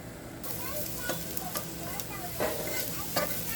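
Pineapple pieces sizzling in a hot pan at a campsite, a steady frying hiss with occasional stirring scrapes and small pops, close and moderately loud with no voices.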